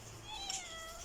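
A domestic cat gives a single drawn-out meow at close range, fairly quiet, with no other sounds around it.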